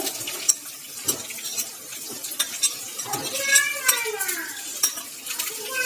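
Two large onions fry and are stirred in a pan for litti chokha. A spoon clatters against the pan in irregular knocks over a close, crackling sizzle.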